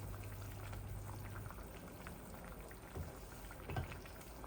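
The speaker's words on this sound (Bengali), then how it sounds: "এই দেখুন আমার মাছগুলা বলক এসে গেছে।" Chitol fish boils in a pot with a faint, steady bubbling simmer and a couple of slightly louder pops near the end.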